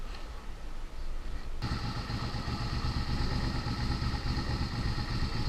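A Suzuki SV650 motorcycle engine runs steadily nearby, a continuous mid-pitched rumble that grows fuller and louder after a brief softer opening, with no talking.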